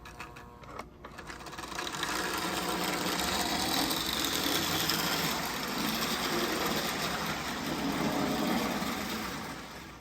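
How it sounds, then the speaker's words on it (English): A Marx 1095 toy diesel locomotive runs on its old single reduction motor, giving a steady, fairly quiet mechanical whir and buzz that holds evenly for several seconds after a brief start, with no voices. "It has the old single reduction motor."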